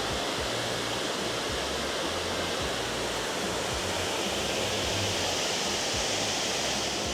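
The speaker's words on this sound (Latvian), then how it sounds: "te nu ir tas tunelis, par kuru tad tiek novadīti prom no pilsētas tie ūdeņi no kalniem. Un te viņš aiziet lejā pa to" Water rushes steadily down a large cascade at Villa Gregoriana, a dense continuous roar that stays loud and even throughout with no voices.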